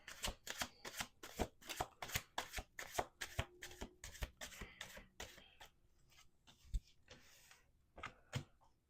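Tarot cards being riffle-shuffled in quick, crisp bursts, close by, with a rapid fluttering rhythm that slows and thins out toward the end.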